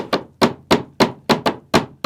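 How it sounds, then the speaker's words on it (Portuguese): Repeated hammer blows, eight sharp metallic strikes in a fairly steady rhythm about a third of a second apart, close and loud with no talking. "nas batidas repetidas de um martelo"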